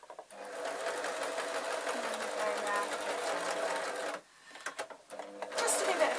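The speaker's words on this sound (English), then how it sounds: "what I'm going to do is just reverse stitch over those lovely bits of elastic" A sewing machine reverse stitches over elastic while sewing a sleeping mask, running in a steady close whirring burst, pausing briefly, then starting again louder near the end, with a voice talking over it.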